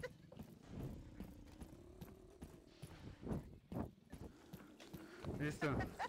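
Horse hooves clip-clop in the War Dust video game, a steady run of hoofbeats at moderate distance, with a whinny near the end and a person talking over much of it.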